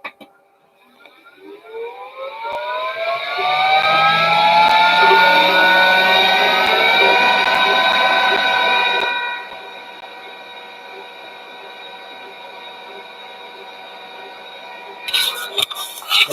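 A Glowforge laser cutter prepares to engrave vegetable-tanned leather: a rising whine climbs in pitch, holds loud and steady for several seconds, then drops to a quieter sustained hum with a short clatter near the end.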